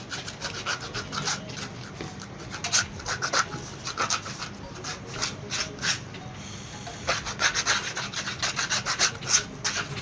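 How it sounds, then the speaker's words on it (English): Sandpaper rubbed back and forth over a cut fabric-covered slipper sole, a close, steady rasping scrape in quick repeated strokes with no talking. "So I'll use my sandpaper to smoothen it."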